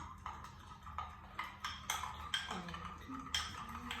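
Runny colored Swedish pancake batter being whisked in a bowl, a quiet, regular series of utensil clinks and scrapes at roughly half-second intervals, close by and soft.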